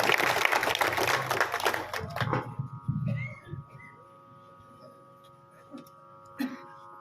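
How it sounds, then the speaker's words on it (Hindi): Applause from an audience greeting a local MLA at a health sub-centre inauguration ceremony in a village, a burst of clapping that fades after a couple of seconds, with a steady tone and scattered small sounds following. "जोरदार तालियों के साथ स्वागत माननीय"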